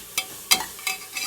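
Onions sautéing with ginger garlic paste in a pan for vegetable pulao, heard as a few short, close sizzling stirs in quick succession with no talk.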